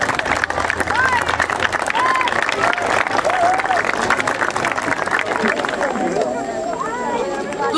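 A crowd claps for a student called up at a school's solemn opening session in Mangualde, sustained applause with murmuring voices underneath, tapering off as an announcer's voice returns.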